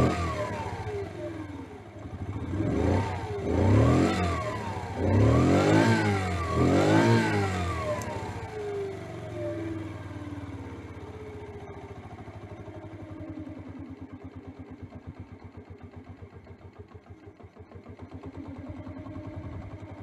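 A small engine is adjusted at the carburetor, surging through several rising and falling revs before dropping to a rough, uneven, pulsing idle, heard close and alone.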